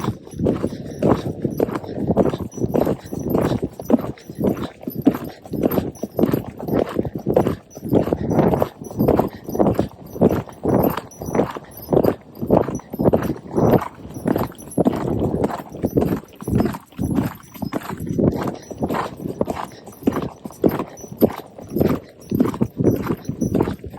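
A horse canters on a racetrack during endurance training, steady rhythmic hoofbeats thudding close and loud for a long stretch.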